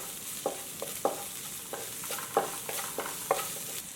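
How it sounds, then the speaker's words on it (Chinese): Minced garlic and ginger stir-fried in a wok with pork, dried red chilies and Sichuan pepper give a soft, steady sizzle, punctuated by sharp scraping clicks of the spatula at irregular intervals. "放入蒜末和生姜末炒制"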